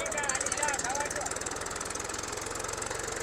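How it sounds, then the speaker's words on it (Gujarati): A tractor engine chugs nearby during a village Ganpati visarjan, with a fast, steady knocking beat running throughout beneath voices and background clatter. "તો ફાઇનલી જો ટ્રેક્ટર નીકળી ગયું છે અમારું"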